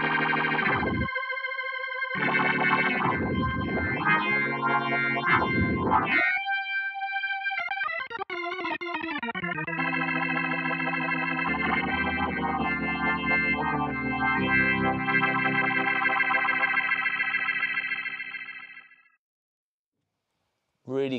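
A Kurzweil K2700 workstation keyboard playing sustained chords and melodic lines through a buzzy, distorted effect, with swooping pitch bends before fading out.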